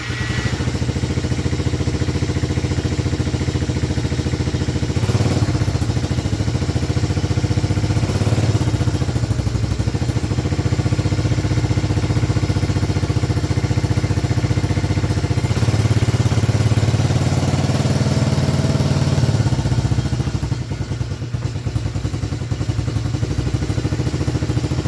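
A 110cc pit bike idles on choke after a cold winter start, its small engine putting out a steady, loud clattering putter close by for the whole stretch, with slight unevenness near the end.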